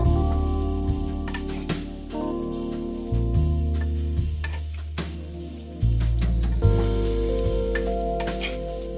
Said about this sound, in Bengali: দেখুন চিঁড়েটা দিয়ে আমি এইভাবে নাড়বো।